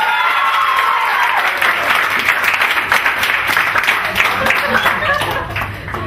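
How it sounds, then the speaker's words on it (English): A crowd in a hall claps loudly and continuously, some scattered chuckles and voices mixing in as the applause gradually thins toward the end. "Did I get this kind of applause when I won?"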